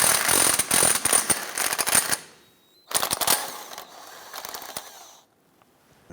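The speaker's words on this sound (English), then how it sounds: "Let's go ahead and remove our big bolt." Ratcheting or impact-tool bursts loosening a large bolt on a 1993-1997 Ford Ranger radius arm, two loud rapid clattering runs separated by a short pause, close by with no talk.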